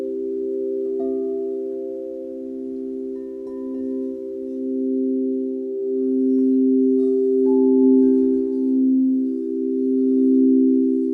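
Empyrean crystal singing bowls from an eight-bowl set ring with sustained, pure overlapping tones that swell and shimmer, with soft strikes adding new notes, close and steady with no talking.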